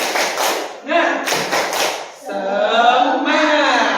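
A group of people performs a rhythmic spirit clap, two bursts of loud, quick clapping close by, followed by voices calling out together.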